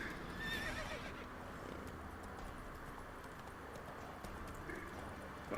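A horse in The Witcher 3 video game neighs and its hooves clip-clop in a steady trot, faint beneath a constant in-game ambient background.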